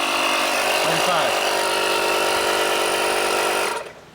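A JF.EGWO 6000A portable jump starter's built-in air compressor inflates a tire, a steady loud mechanical drone running continuously before cutting off near the end.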